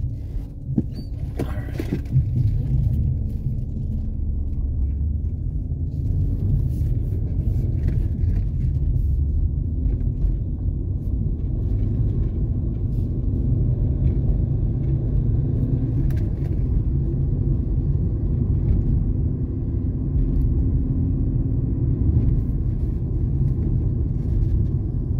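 A 1987 Audi 5000 Turbo Quattro wagon with a five-speed manual driving along: steady, loud low engine and road rumble heard from inside, continuous throughout with a few small clicks and rattles early on.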